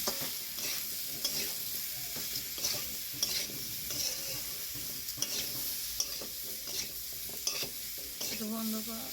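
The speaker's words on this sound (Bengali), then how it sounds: "এখন নেড়ে চেড়ে মশলাটাকে মিশিয়ে দেব" Spice masala for a potato curry being stirred and fried in a pan, a steady soft sizzle broken by repeated scraping strokes of the spoon, close and fairly quiet with no voices.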